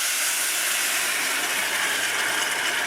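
Water and coconut milk hitting hot oil and spices in a pan for a lentil dish, a loud steady sizzling hiss that holds without a break, with no voices.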